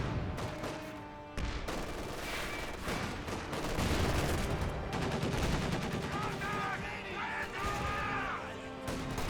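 Loud, sustained machine gun fire and battle noise from a Company of Heroes 2 match, with a steady stream of shots and crashes under continuous combat sound.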